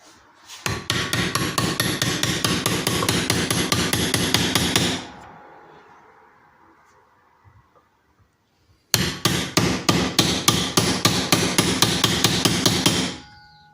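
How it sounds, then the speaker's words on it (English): Rapid, even metallic hammer taps on an 18mm socket with a small hammer during small engine repair, in two long bursts separated by a quiet pause, loud and close. "Go ahead and just use a socket and a little hammer."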